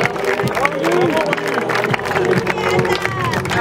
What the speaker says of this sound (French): Et troisième victoire, c'est applaudi